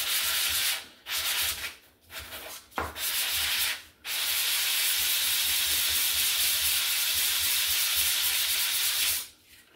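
A cylinder head is sanded flat by hand, with long steady rasping strokes broken by short pauses, close and fairly quiet, no voices.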